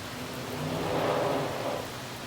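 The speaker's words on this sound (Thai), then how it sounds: "คุยกันไปคุยกันมาฝนตกเฉยเลยนะ" Steady rain hisses evenly throughout on a morning in Las Vegas, with a low rumble of thunder swelling slightly in the middle, no voices present.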